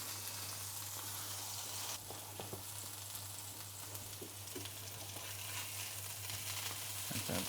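Wild boar burger patties searing in an oiled pan, a dense, continuous close sizzle that holds steady throughout, with a few faint clicks of handling and no talking.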